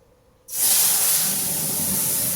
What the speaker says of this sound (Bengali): তো এটা সব আমি তেলের মধ্যে দিয়ে দিলাম